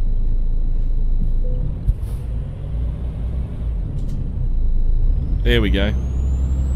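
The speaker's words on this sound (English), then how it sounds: "Oh, I need to put that park brake on, start her up." A Freightliner Classic truck in Euro Truck Simulator 2 gives a short air hiss as its parking brake is set, over a low idling rumble while someone talks.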